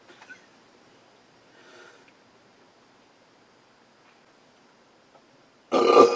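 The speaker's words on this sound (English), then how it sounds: "Oh, excuse me. Oh, a peaty burp." A single loud, abrupt burp erupts at the end after near silence broken by faint breaths and small noises.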